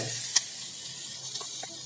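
Shredded cabbage and carrot sambharo with fenugreek fries in hot oil in a pan, giving a steady soft sizzling hiss with a couple of faint pops.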